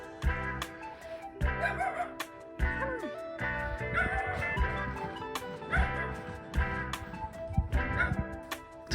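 A dog barks repeatedly in short bursts and yips at a rural home with a wood-fired furnace, loud and close, with a rooster-like call and some background voices mixed in.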